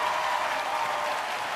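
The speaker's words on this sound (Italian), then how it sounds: "Prendi l'applauso di questo pubblico" An audience applauds a singer at a live Italian music show, a dense, steady wash of clapping holding at full strength throughout, with no voices above it.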